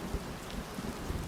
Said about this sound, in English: is that thunder too loud or is that a good volume?